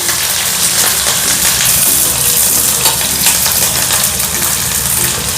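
Onion dropped into hot oil with crackling mustard seeds, cumin and slit green chillies, frying for Maharashtrian brinjal bharit: a loud, dense, continuous sizzle and crackle with faint stirring, no voices.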